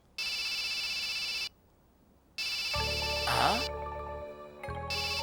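A phone rings with an incoming call, its electronic ringtone sounding in two long loud bursts separated by a pause, the second overlapped by other tones and a short vocal sound.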